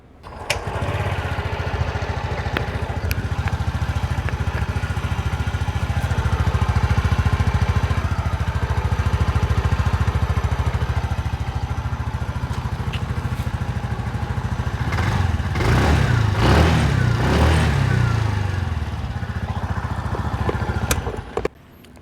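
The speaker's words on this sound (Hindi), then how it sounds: "यहाँ पे मैं आपको दिखा दूँ एग्जॉस्ट नोट मैं आपको सुना दे रहा हूँ" A TVS Jupiter scooter exhaust note, loud and close, idling in a steady buzzing drone for most of the stretch, then briefly revved in a few quick throttle blips before settling back and cutting off.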